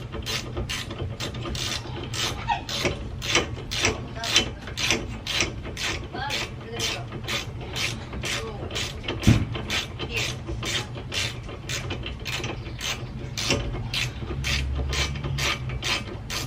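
A ratchet clicks rapidly and steadily while the brake caliper bracket is installed on a 10th-generation Honda Accord's rear brakes, close up, with a single knock midway and no talk.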